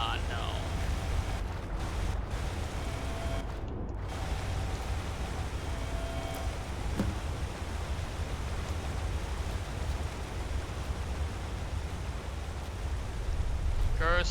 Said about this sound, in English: Curse you, waterfall!